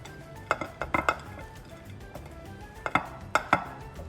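Salad with avocado being mixed in a bowl, giving clusters of sharp utensil clinks and knocks against the bowl in two bursts separated by a quieter stretch of soft rustling.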